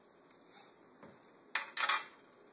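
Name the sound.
stirring egg yolk, mustard powder and salt in a bowl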